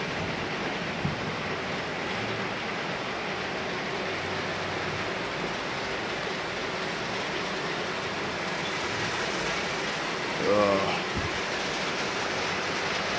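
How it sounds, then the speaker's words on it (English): Steady rain falling outside a bed and breakfast villa in Jamaica, a soft continuous hiss with a brief louder rustle near the end and no voices. "Rain falling right now."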